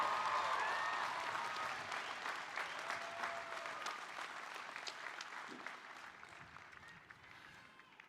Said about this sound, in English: if we could give a round of applause to all of our graduates, the class of 2021,